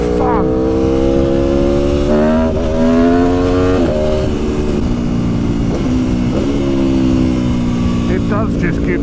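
An Aprilia Tuono naked motorcycle ridden on a road: a loud, close engine drone climbs in pitch, drops at each gear change and climbs again, running continuously throughout.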